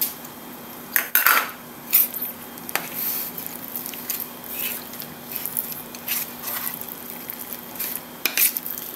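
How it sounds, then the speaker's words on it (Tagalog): A spoon stirs and scrapes through a thick mix of sardines, squash, egg and flour in a bowl, giving irregular clinks and taps against the dish over soft, continuous scraping, close and fairly quiet. "halo haluin lang natin para mabind"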